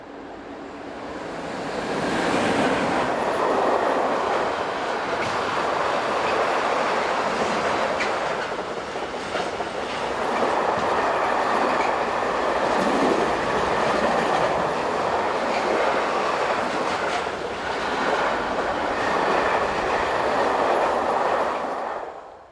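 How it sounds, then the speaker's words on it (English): A long intermodal or post train behind an RE66 electric locomotive rolls past close by, giving a loud, sustained roar of wagons and wheels with faint clickety-clack that stays steady for over twenty seconds. "Train 50830 is an internal post train from Cadenazzo to Harkingen, with RE66 electric number 11656 providing the power"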